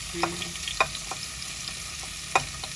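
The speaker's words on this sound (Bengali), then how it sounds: "এই চিংড়ি মাছ দিয়ে দিতেছি আর পেঁয়াজ দিয়ে দিতেছি" Shrimp and onion frying in a pan, a soft steady sizzle broken by a few sharp clinks and scrapes of stirring, close by with no talking.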